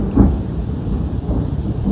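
Heavy rain pours steadily in a thunderstorm, with a deep rumble of thunder rolling in near the start and lower thunder murmuring beneath the constant downpour, loud and close.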